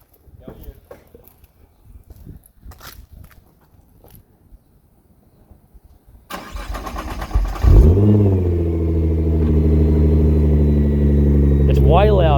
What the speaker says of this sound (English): Do a little startup and we'll test if there's any leaks in the flanges